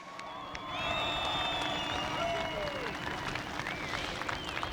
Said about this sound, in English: give your final three drivers a huge round of applause